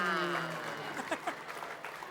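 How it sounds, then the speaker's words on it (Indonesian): Studio audience applause on an Indonesian comedy show, a rattling burst of clapping that fades into moderate clatter, with voices and brief talk mixed in over it. "Kita berikan tepuk tangan untuk Van Ledut"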